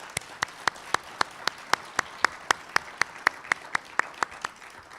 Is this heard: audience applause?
yes